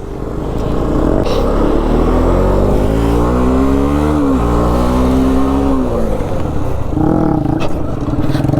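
A Bajaj Pulsar NS 200 motorcycle engine revs loudly and steadily during rolling stoppie practice, its pitch rising and dipping with throttle changes, close and continuous throughout.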